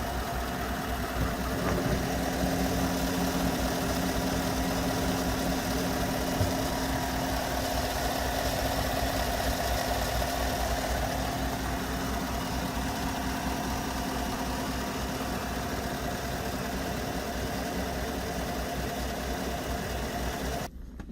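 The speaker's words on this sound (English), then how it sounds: "here's the engine running" A GMC Sierra 1500 SLT pickup engine idles steadily and evenly for about twenty seconds, a close, constant low rumble with faint mechanical ticking and no voices over it.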